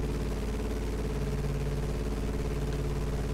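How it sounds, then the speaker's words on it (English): Piper J-3 Cub light aircraft engine in a flight simulator, a steady low droning hum with a throbbing, clattery pulse, held constant and fairly loud throughout with no talk. "The engine sound is just excellent."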